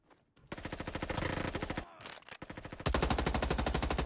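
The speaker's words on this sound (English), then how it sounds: "I got an M4." An M4 rifle in the Roblox video game fires in loud, rapid automatic bursts: a long volley, a short break, a brief burst, then another sustained stream of shots up close.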